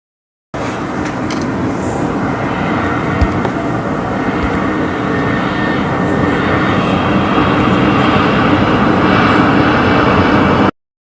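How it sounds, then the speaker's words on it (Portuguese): A large aircraft roars overhead as one steady, broad rumble that holds at a constant loud level across the whole stretch, with no voices over it. "Isso é um avião de grande porte"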